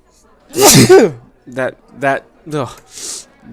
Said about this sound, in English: question made me sneeze